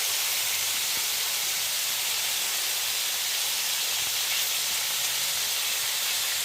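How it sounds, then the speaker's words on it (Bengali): Potatoes, carrots and beans frying in a pan over medium heat, a steady, even hiss of sizzling oil that holds constant throughout, close and moderately loud with no voices. "এবার আলু গাজর এবং বিন এগুলো কিন্তু ভালোভাবে ভেজে নিতে হবে"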